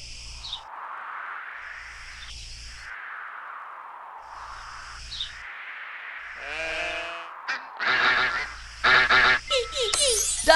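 Cartoon duck quacks from a preschool animal-names video game, a few bright honking calls repeating at a steady pace, followed by brighter chiming game effects and jingles toward the end.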